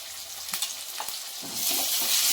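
Ginger garlic paste fries in hot oil with curry leaves, a few stirring clicks at first, then the sizzle swells into a loud, steady hiss, near and without talk.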